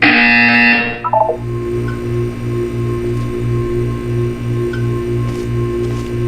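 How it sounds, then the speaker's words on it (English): A steady pulsing electronic buzzer from the video game Portal 2, repeating at an even rhythm after a short tonal chime opens, loud and alone with no talk. "When you hear the buzzer, look up at the ceiling."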